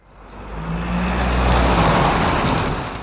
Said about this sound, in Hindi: फर्राटे भरती हुई गाड़ी रवां दवां है।